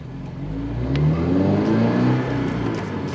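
A 2022 Subaru BRZ or Toyota GR86 engine revs steadily and loudly nearby, a continuous droning whir that swells slightly in the middle and eases toward the end, with no voices.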